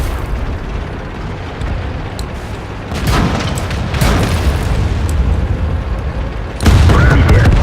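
Howitzer light tanks firing in World of Tanks, with several deep booming shots at irregular intervals over continuous battle rumble, the last blast the loudest.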